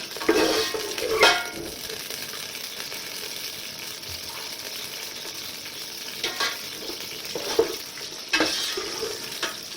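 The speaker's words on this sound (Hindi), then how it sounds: "ये जब फ्राई हो जाएगी ना प्याज" Steady sizzle of onions frying in oil fills the background, broken by occasional scraping stirs and clattering bursts from a utensil in the pan.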